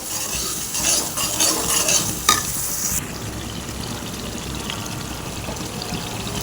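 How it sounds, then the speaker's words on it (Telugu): Curry gravy fries in hot oil in a pan, a steady broadband sizzle with stirring scrapes, louder and busier during the first half, then settling to a constant hiss. "ఈ గ్రేవీని నూనెలో వేసుకొని బాగా ఉడకనివ్వాలి"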